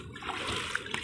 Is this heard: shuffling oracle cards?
no